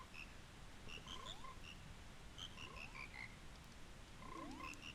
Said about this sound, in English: We get to actually listen to the stupid frog choir.